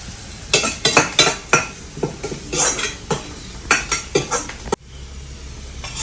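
Metal utensil stirring and scraping rice with onions frying in a pan during a Kerala breakfast preparation, with repeated sharp clinks and scrapes in an uneven rhythm over a soft sizzle, close and fairly loud, no talk.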